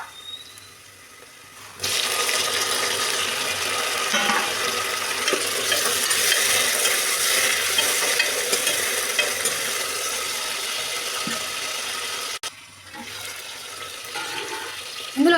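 Tomatoes tipped into onions frying in homemade ghee for bagara rice burst into a loud, steady sizzle, with stirring scrapes through the middle and a brief break before it resumes more quietly.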